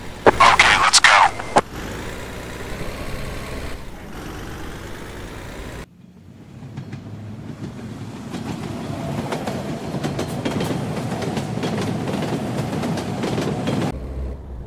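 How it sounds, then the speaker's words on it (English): A train rolling past near a road with cars and a truck hauling a flatbed trailer, a loud sustained rumble and clatter of rail cars filling most of the clip after a burst of shouting and wind noise at the start. "Oh my God, train!"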